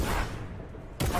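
A shotgun blasts in a video game, with a dense burst of loud booming at the start and another sharp blast right at the end.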